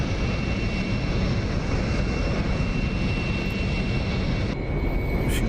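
A simulated SR-71 jet in the DCS flight game cruises at about Mach 1.3 at high altitude. Its engines give a steady, loud roar and rush that holds level throughout, with a thin high whine running along on top.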